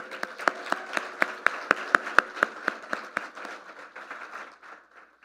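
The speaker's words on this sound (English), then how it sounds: "can we give her a warm Brownsville welcome with a round of applause?" A small group claps at a city manager's community event, the claps coming as a rhythmic series of distinct, fairly close hits that peak in the middle and then fade as the clapping thins out.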